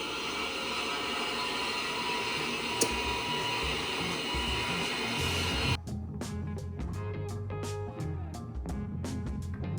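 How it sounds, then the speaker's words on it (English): Welding outdoors gives a continuous harsh buzzing hiss, heard from indoors at a moderate level, that shifts into a rapid crackling pattern partway through. "they are welding outside, so I don't know if you can hear that noise"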